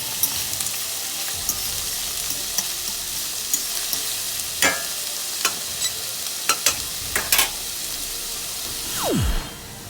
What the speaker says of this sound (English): we're going to saute the garlic and the onions first